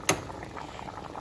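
A pot of sausage, spinach and white bean soup boils on the stove, a soft continuous bubbling and simmering hiss with one brief sharp clink at the start, quiet and close.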